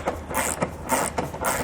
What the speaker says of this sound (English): We're going to start with this bolt here using a 3/4 inch socket.